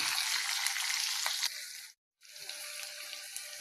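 Onions dropped into hot oil tempering for a palak tamarind gravy, giving a steady, bright, close hiss of frying that cuts out briefly, then resumes at a similar level.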